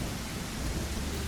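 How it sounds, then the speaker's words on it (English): Rain and thunder from a video game weather system: a dense, steady roar of rainfall with low rumbling underneath, continuous for a brief stretch. "And there we go, we have rain."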